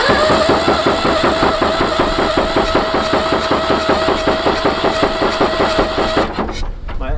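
A Massey Ferguson 244 tractor engine starts and runs rough with a rapid rhythmic knocking, loud and close, before cutting off abruptly near the end.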